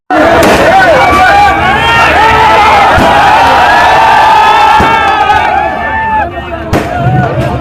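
A loud, dense crowd roars and cheers at a street political welcome in Mumbai, while a handful of sharp firecracker bangs crack through at irregular moments.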